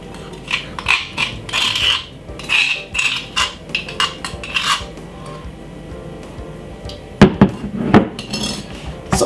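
Metal utensil scraping and clinking against a dish while preparing Jamaican Christmas jerk pork, a run of close, uneven scrapes and taps that pauses briefly, then returns as a few sharper knocks.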